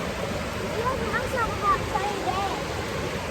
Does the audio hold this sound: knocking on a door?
no